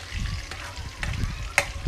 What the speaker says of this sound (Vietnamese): mình sẽ bỏ chuột vào, mình chiên chiên cho nó giòn lên nha các bạn